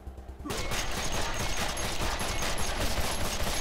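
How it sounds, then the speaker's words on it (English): Sustained rapid gunfire from the Wasteland 2 video game, a character spraying shots into the floor, loud dense bursts starting abruptly after a brief quiet moment and continuing nonstop. "And he shot at the floor 100 times."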